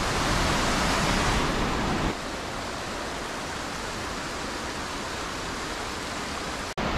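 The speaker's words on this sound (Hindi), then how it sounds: "अभी हम पहुंच चुके हैं इस रास्ते के तीसरे वाटरफॉल पे, जिसका नाम है शिवा वाटरफॉल।" Shiva waterfall on the Kheerganga trek in Himachal Pradesh, a steady broadband rush of falling water, loud and close at first and then a little softer and more distant for the rest, with no voices.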